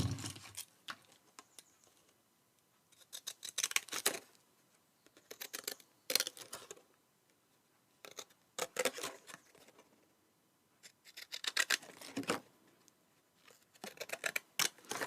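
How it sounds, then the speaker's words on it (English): Scissors snipping through paper strips while cutting along a white border, in quiet repeated bursts of crisp cuts separated by short pauses. "you can just cut away, and I'm putting the points of my scissors down the side of the white"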